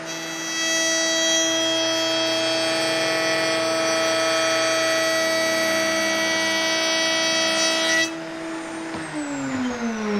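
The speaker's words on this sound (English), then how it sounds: "So let's go ahead and route that." Wood router cutting a chamfer on a workpiece, a loud steady high-pitched whine that holds for about eight seconds and then cuts off as the motor winds down.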